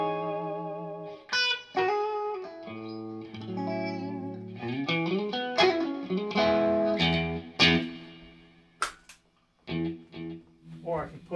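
Sustained notes and chords on an LS30 keyboard ring out through a heavy reverb effect, with long, washy tails blurring each phrase and several sharp accents standing out near the end.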